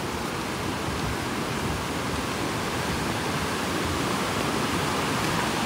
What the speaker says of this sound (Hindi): ये पानी यहाँ से आ रहा है, यहाँ पे भी चेक डैम जैसा बना हुआ है